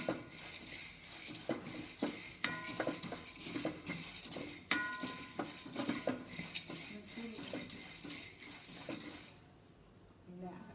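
Dal dry-roasting in a pan for homemade rasam and sambar powder, with steady close scraping and metallic clinks from the stirring spoon against the pan, then a quieter stretch near the end.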